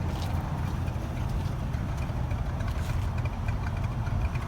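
A 1967 Chevrolet C20 truck engine idles with a steady, quiet low rumble that stays even throughout, no speech over it.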